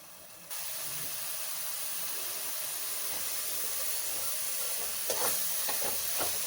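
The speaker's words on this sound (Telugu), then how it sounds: "ఇదిగోండి ఇలా ఫ్రై అవ్వాలి" Masala for a Godavari-style pulasa fish curry frying in a pan, a steady close hiss and sizzle throughout with a few sharper spits and crackles near the end; no one speaks.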